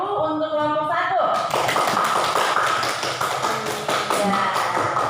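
Classroom audience applause for a student group that has just finished presenting, breaking out after a brief spoken line and continuing as steady, dense clapping to the end.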